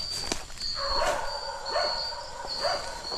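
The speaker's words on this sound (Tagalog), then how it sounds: "Galit yung aso." In a forest, an angry dog gives three evenly spaced barks at middling distance, each short and clipped, over a steady high-pitched insect drone.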